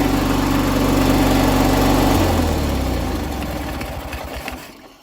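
A vintage ATV or garden tractor engine idles close and loud with a steady low throbbing hum, then the note drops and sputters as the engine slows and dies away to near silence at the end.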